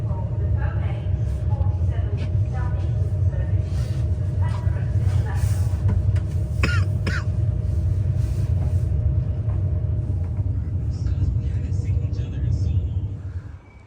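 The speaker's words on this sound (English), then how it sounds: "So we have arrived at Canterbury West train station." Steady low rumble of Canterbury West train station, with a continuous engine-like drone, faint mechanical hum and scattered higher clatter throughout, voices mixed in, fading near the end.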